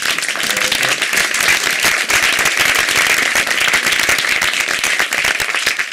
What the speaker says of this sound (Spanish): yo os invito a un aplauso a todos los miembros de esta mesa